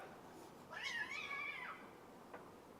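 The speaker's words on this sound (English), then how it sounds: "Bloody cats." A single cat lets out one drawn-out, wavering meow close by in a quiet spot, followed by a faint short chirp a moment later.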